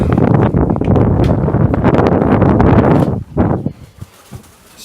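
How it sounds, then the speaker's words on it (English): Strong winter wind buffets a moored live-aboard boat in the UK, roaring loud and steady for about three seconds before dropping to scattered gusts and rustling. "Oh, very windy, very windy."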